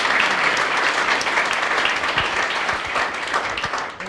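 Audience applause for the organizers of a life science startup event with a state governor: loud, sustained clapping from a crowd, steady throughout and easing slightly at the very end.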